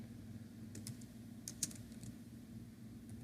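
Faint, sparse clicks of typing on a computer keyboard, a few soft keystrokes and a louder tap, over a steady low hum.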